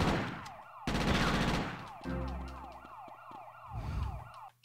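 Wailing police sirens sweep up and down in a video game chase through Chinatown Wars streets, layered with bursts of gunfire and explosions, loud and continuous throughout.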